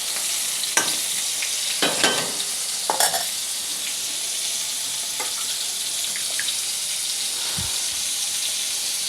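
Eggplant fries in a pan with a steady, hissing sizzle, joined by a few scraping stirs and clinks from a utensil, recorded close with no talking.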